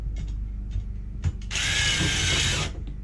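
A ratchet drives a lag bolt into an RV anchor plate during an air-conditioner upgrade: a few light clicks, then one continuous, close-up grinding burst of about a second before it stops.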